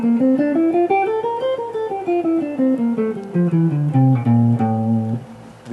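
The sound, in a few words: A Phrygian mode scale played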